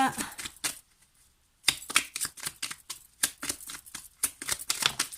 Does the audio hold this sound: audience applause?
no